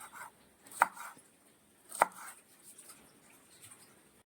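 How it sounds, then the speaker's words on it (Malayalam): A knife finely chops three green chillies on a cutting board for fried rice: two crisp, distinct strikes about a second apart, quiet and close, with faint tapping in between. "ഒരു 3 പച്ചമുളകും കൂടെ നമുക്ക് ചെറുതായിട്ട് അരിഞ്ഞെടുക്കാം"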